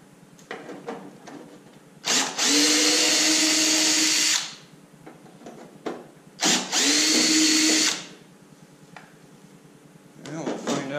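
A power drill backs screws out of a Ford Bronco door in two sustained whirring bursts of about two seconds each, with small clicks and handling noises between them.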